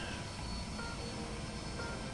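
A Harrier jet's engine roars during a normal takeoff in a flight video game, a loud, dense, unbroken roar that holds steady throughout with no voices.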